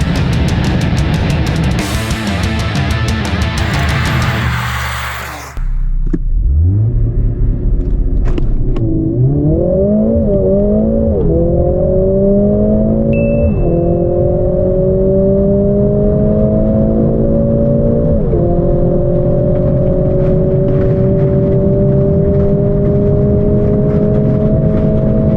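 A Mercedes-AMG A45 S accelerating hard on a race circuit after a brief burst of other noise: the engine note climbs steadily through several gears, loud and close, with short dips at each shift and no talk.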